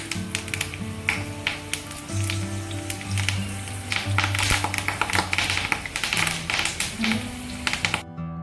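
Crushed garlic and curry leaves crackle in hot oil with mustard seeds while a masala bhindi tempering is made, a busy spattering sizzle with rapid popping ticks over a low humming background tone, with no speech.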